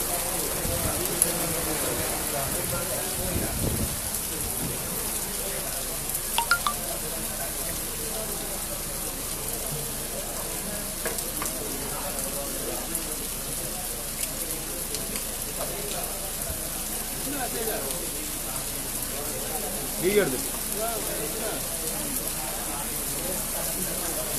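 Steady rain falls on surfaces across Kilinochchi during a renewed downpour, a constant broadband hiss with occasional louder drops and splashes, heard alone without talk.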